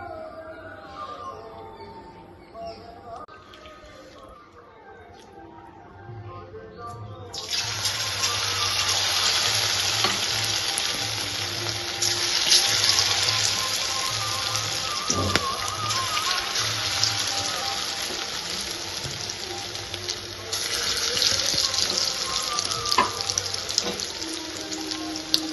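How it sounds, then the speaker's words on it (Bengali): Pieces of bhetki fish fry in hot oil in a wok, starting with a low, quieter bubbling and then bursting into a loud, steady, hissing sizzle that carries on continuously. "এবার আমি একটা করে মাছ নিয়ে কিছু কিছু করে নিয়ে ভাজবো।"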